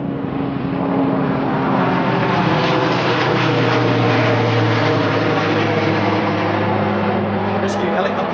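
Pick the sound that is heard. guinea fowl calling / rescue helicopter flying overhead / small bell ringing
rescue helicopter flying overhead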